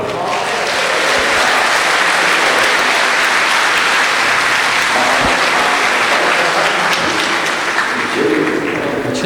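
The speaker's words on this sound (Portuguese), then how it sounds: "Palmas para Jerônimo." Sustained, dense applause from an audience at a Portuguese-language lecture: loud, continuous clapping that fills the whole stretch without a break.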